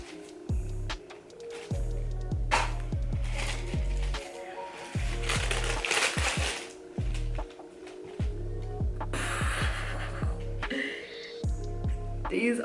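Cardboard crinkles and scrapes as a sneaker box holding Air Jordan 4 White Oreo shoes is handled and opened, in uneven bursts close by over a low rhythmic hum.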